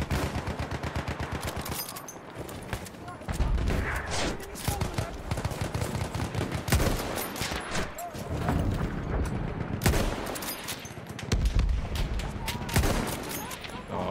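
Heavy battlefield gunfire in Battlefield 1, with continuous overlapping rifle and machine-gun bursts and occasional booms filling the scene, while someone talks over the din.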